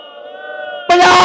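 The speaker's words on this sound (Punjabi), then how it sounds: "ਨਾਰਾ ਦਾ ਜਵਾਬ ਦਿਓ ਬੋਲੇ ਸੋ ਨਿਹਾਲ" A crowd at a large Punjabi rally bursts into a loud collective jaikara shout in answer to the Sikh slogan Bole So Nihal, the roar rising abruptly after a held, chanting voice.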